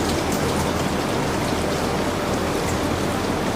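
Steady rain pours down during a Canadian Rocky Mountaineer train journey, a continuous broadband hiss of drops with no breaks, loud and close throughout.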